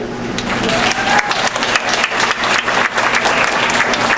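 A crowd at a school meeting gives loud, continuous applause as a staff member is called up. The clapping stays dense and close for the whole stretch, with faint crowd murmur beneath it.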